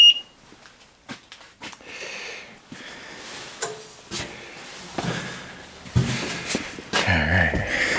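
Security alarm keypad being disarmed during a 2013 blizzard, with a burst of sharp electronic beeps mixed with clicks, rustling and handling noises close by.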